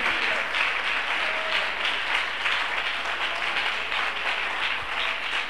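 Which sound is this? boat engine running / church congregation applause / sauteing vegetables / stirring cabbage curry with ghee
church congregation applause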